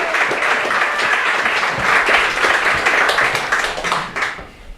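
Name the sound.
audience applause for a speaker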